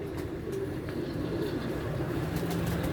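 Pigeons coo softly in a netted outdoor loft, the low cooing steady and continuous beneath faint background noise, with no clear talk.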